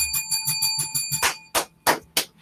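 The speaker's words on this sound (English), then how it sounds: "Can I get that bell real quick?" A bell effect of rapid, ringing metallic strikes with sustained bright overtones, ending in three louder, separated clangs that decay quickly.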